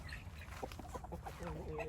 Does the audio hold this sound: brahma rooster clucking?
yes